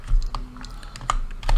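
Keys clatter on a computer keyboard during photo-editing work, a handful of close, sharp clicks in an uneven rhythm with brief pauses, no talking.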